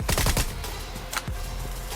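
Automatic gunfire in the battle royale game BGMI: a rapid burst of close, sharp shots opens, then a single later shot cracks out over a fading rumble.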